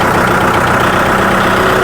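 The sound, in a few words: tractor diesel engine running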